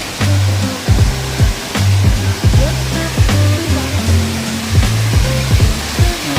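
A steady rush of falling water from the Gulabavi Karemma waterfall near Gokak roars close by, with faint tonal hums and occasional sharp knocks under the continuous splash.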